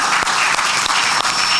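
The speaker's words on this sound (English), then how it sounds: "So please give a round of applause for our panelists" An audience at a tech-for-good economic development event applauds its panelists with loud, dense clapping from many hands, sustained evenly throughout.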